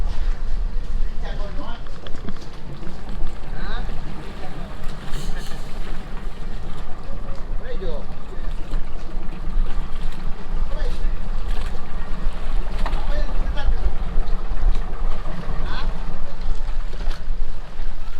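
A dive boat's engine drones steadily as it runs across open water off the Derawan Islands, with wind buffeting the microphone and waves splashing throughout, and people talking over it.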